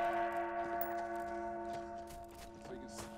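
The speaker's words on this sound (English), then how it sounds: "If you hit the gong" A struck gong rings out with a sustained, layered metallic tone and a shimmering sizzle on top, slowly fading over a few seconds with no talking.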